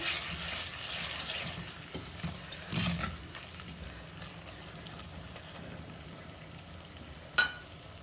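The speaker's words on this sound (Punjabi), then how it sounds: "ਲਸਣ ਅਦਰਕ ਨੂੰ ਵੀ ਅਸੀਂ ਪਿਆਜ਼ਾਂ ਦੇ ਨਾਲ ਹੀ ਭੁੰਨ ਲਿਆ ਹੈ" Garlic, ginger and onions frying in a pan give a soft, steady sizzle, with a few brief stirring scrapes and one sharp clink near the end.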